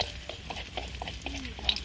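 Garlic sizzles in hot oil in a pan while a utensil stirs it, giving a steady close frying hiss broken by soft scraping strokes, with no talk.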